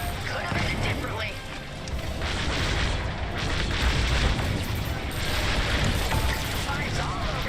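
Bombers blowing up in the video game Star Wars Squadrons, a dense roar of booming explosions and starfighter rumble, loud and sustained, with a person talking over it.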